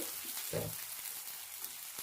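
Garlic and green chillies fry lightly in hot oil in a pan, a soft, steady sizzle with a brief utensil knock near the start.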